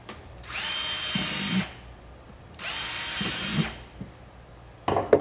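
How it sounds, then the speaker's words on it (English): Cordless power drill boring two wire holes for a homemade trailer light tester: two separate whirring bursts of about a second each, close and loud, with small handling clicks between them and at the end. "We are going to make two wire holes."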